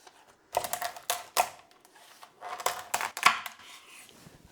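A knife cracks through a lobster tail shell in a series of crisp, close crunching snaps and scrapes, irregular in rhythm, with short pauses between cuts and no talk.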